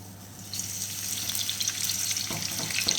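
Garlic goes into oil in an iron pot and a bright, close sizzle starts abruptly after a quiet moment, then crackles on steadily with small pops.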